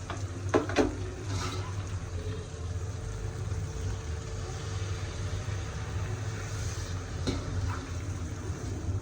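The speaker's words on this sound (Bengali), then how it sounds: "আজকে পুকুরের কার্পু মাছ রান্না করছি টমেটো দিয়ে।" Carp from a pond cooking in a pan with tomato, onion and spices, a steady low sizzle and stir under a few clinks of utensil on metal near the start and a single knock later.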